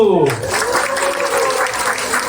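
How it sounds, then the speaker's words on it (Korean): Audience applause at the opening ceremony of a church village festival and bazaar, a dense crowd clatter that rises right after a brief voice and carries on steadily to the end. "다 같이 박수!"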